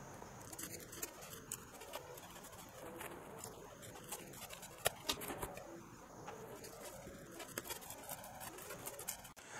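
Scissors or a cutter slice through material while shaping a rectangular cutout, a quiet run of crisp snips and scratchy clicks with faint rustling, fairly close and without talk.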